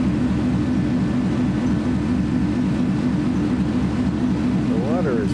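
A ferry's engine compartment running while the vessel sits at the dock, a loud, constant low throbbing drone close by, with a voice briefly heard near the end.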